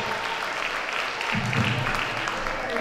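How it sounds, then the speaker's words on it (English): Applause from an arena audience rises for a female performer at a charity concert, a steady wash of clapping heard at moderate distance, with a brief swell partway through. "Can we give her one more round of applause?"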